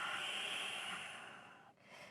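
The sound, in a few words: exhaling through the nose, yoga breathing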